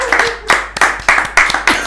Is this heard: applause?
yes